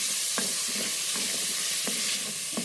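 Spices lightly frying with turmeric and chili in a pan, a steady loud sizzle throughout with a few distinct stirring scrapes at intervals and no talking.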